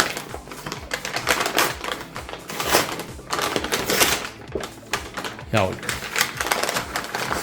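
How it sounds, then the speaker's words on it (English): A paper Amazon mailer holding a Fire TV Stick 4K Plus is torn open by hand, giving dense crackling rips and rustles close up. A person speaks over the tearing. "It's a paper pack we can tear apart directly."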